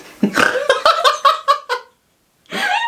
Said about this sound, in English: That was an almost burp is what that was.